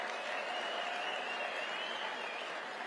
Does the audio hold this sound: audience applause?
yes